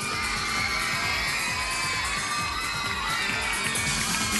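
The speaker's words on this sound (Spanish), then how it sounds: "la gente grita" A television talent-show audience shouts and cheers loudly and continuously, a dense wall of crowd noise with whoops and high excited voices throughout.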